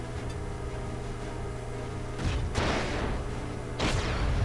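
Missile launches in the mech strategy game Front Mission 4: two broadband whooshing blasts, the second following about a second and a half after the first, over a steady low in-game hum, fairly loud and with no talking.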